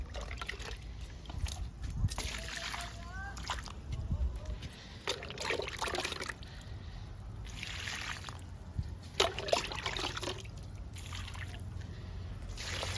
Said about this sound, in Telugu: ఇలా అన్ని మొక్కలకి ఇవ్వచ్చు దానిమ్మ లిక్విడ్.